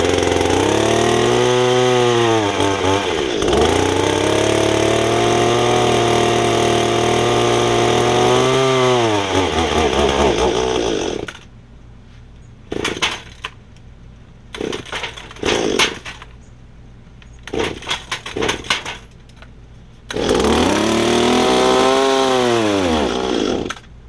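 Echo hedge trimmer with a freshly overhauled carburetor, its small two-stroke engine revving loud and close in long sustained bursts, then dropping to a rough idle with brief blips before revving up again near the end.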